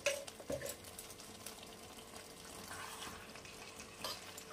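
A potato and cauliflower curry, dhaba-style aloo gobi, is stirred gently in a pan over a low flame. Soft, steady scraping and sizzling runs throughout, with a few slightly louder scrapes near the start.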